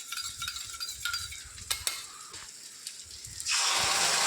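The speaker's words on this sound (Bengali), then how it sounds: "তো এবার আমি সুন্দর করে এটা একটু ভেজে নেব" Chowmein ingredients coated in ketchup, dark chilli sauce and red chilli sauce frying in a pan, with soft sizzling and stirring scrapes, then a sudden loud steady sizzle near the end.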